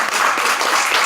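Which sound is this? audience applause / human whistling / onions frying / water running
audience applause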